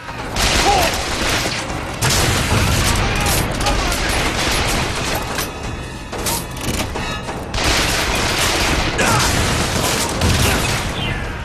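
Gunfire and explosions from the video game BioShock Infinite, a dense, continuous barrage of shots and booms with heavy mechanical noise, loud throughout.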